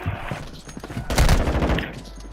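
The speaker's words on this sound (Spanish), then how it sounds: "Son las escopetas." Shotgun fire in a Call of Duty match, with a cluster of loud blasts and rapid reports that peaks in the middle amid chaotic battle noise.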